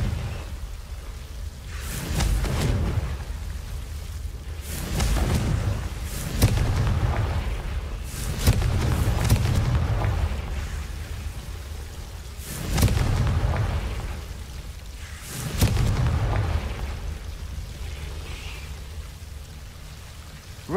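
Repeated Bombarda and Confringo spell explosions in Hogwarts Legacy, several low rumbling booms spaced a few seconds apart over a steady hissing game backdrop, with no talking.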